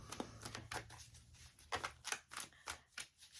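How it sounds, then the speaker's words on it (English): Quick, crisp riffling of tarot cards being shuffled, several short bursts in an uneven rhythm, close and fairly quiet with no talking. "I'm going to do a couple more shuffles here"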